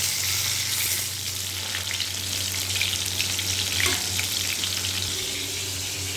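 Slit, peeled pointed gourds fry in a pan with a steady, dense, close sizzle that hisses evenly from start to finish, with no one speaking.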